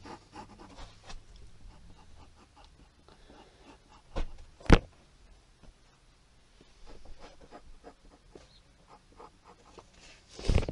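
A pen sketches a castle drawing on paper, with soft, close scratching strokes and rubbing in short bursts, broken by a few louder taps or bumps against the table.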